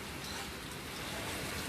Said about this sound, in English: Let's go check on the rain again